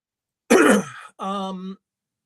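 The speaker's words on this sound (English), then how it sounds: "Excuse me, I'm coughing." A single harsh cough or throat clear, close and loud, followed by a short voiced groan.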